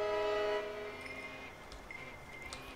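A train in a drone-worker video game gives a steady, horn-like droning tone that holds for about half a second, then fades and thins into quieter mechanical hum with a few faint clicks.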